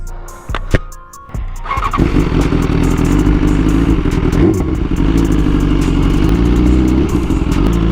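A BMW S1000RR motorcycle rides on back roads: a few clatters and a start, then the engine rises into a loud, steady, close roar that holds to the end.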